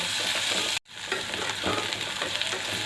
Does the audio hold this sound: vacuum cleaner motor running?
no